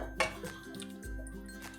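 Raw banana slices drop into a bowl of water, making faint soft plops, drips and a few light clinks against the bowl.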